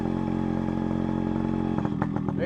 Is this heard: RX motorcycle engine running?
yes